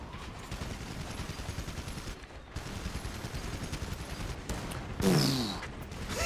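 A mortar fires in the Gigantic: Rampage Edition video game, one sharp, loud blast near the end that stands out over a steady murmur of distant battle noise.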